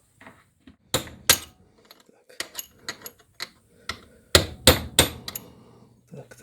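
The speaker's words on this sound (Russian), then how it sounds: "Так, молоточек." A series of sharp metallic hammer blows on a chisel, irregular and fairly close, with a few heavier strikes clustered near the end and faint background noise between, while working on an Alfa moped engine.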